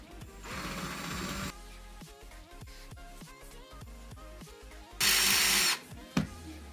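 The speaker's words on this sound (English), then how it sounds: "I drilled some holes for the LED wires to go through" Power drill boring holes into a cosplay prop frame for LED wires, two sustained whirring bursts of about a second each, loud and close, separated by rhythmic tapping and mechanical clatter, with no voices.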